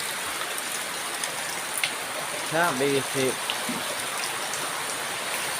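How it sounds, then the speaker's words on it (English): Steady rain falling in the Philippine countryside, a continuous hiss of drops on surfaces, with someone briefly speaking over it. "So we've got a lovely bit of rain."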